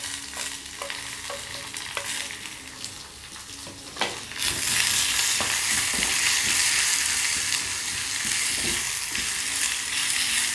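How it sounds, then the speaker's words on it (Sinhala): Onions, green chilies, tomatoes and fenugreek seeds hit hot oil for a kohila leaf curry. Light stirring clicks come first, then a loud, steady sizzle takes over from about four seconds and continues to the end, with no voices. "අපිට පුළුවන් ලූණු, අමු මිරිස්, තක්කාලි, අපේ උළුහාල් ටික මේ තෙල් එකට එකතු කරගන්න"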